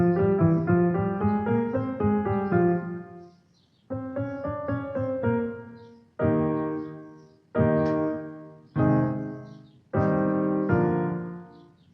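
Piano chords play a gentle introduction, first as rolling arpeggiated runs, then as a series of separate sustained chords struck one after another.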